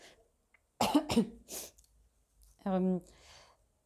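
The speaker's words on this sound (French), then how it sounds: "Je vais tousser, attention." A person coughs in a quick cluster of two or three harsh, close bursts, then gives a short voiced throat sound after a pause, with near silence around them.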